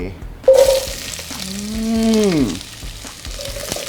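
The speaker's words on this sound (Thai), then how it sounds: "ผัดให้มีกลิ่นหอม" Vegetables stir-frying in a pan for stock, a loud steady sizzle with stirring clatter, while a tonal voice-like sound rises and falls over the frying midway.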